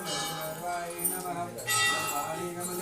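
Clustered temple bells clink and chime near Bhowali, Nainital, where hundreds of offered bells hang. The metallic shimmer rings continuously at close range while people talk nearby.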